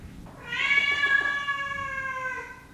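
Several cats meow loudly and insistently at close range, a sustained tonal yowl lasting a couple of seconds with a rising onset and slow fade, over a quiet room background.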